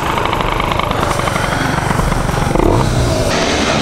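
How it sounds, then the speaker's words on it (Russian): A Honda Dio 35ZX moped's small two-stroke engine with a Malossi Multivar variator buzzes continuously, loud and close, its pitch rising and falling slightly as it rides along. "То есть как-то так мопед едет."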